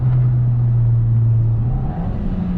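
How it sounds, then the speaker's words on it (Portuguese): A Fiat Fastback Abarth engine holds a loud, steady low drone as it rev-matches, with a shift in pitch near the end, heard close and alone without speech. "o motor já tá cheio, ou seja, som do escape, pipoco no escape, famoso, tem o backfire também"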